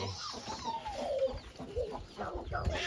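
Chicks cluck nearby, a steady run of soft calls and chirpy clucks overlapping one another with no talking.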